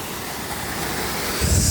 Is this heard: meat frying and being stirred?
no